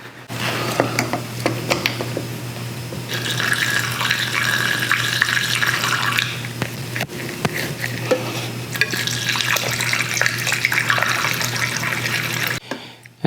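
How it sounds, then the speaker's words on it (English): Diesel purge pours from a 500 ml can into a fuel filter on a Mk4 PD TDI, a close, steady gurgling trickle of liquid that runs for several seconds, pauses briefly, then resumes before stopping abruptly. "But first I'm gonna fill it with the diesel purge."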